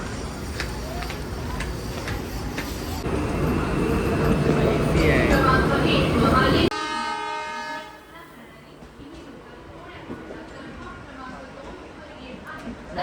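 A Mumbai local train pulls into Currey Road station with loud rumbling and a horn toot, then the noise drops away to quieter platform ambience with faint voices.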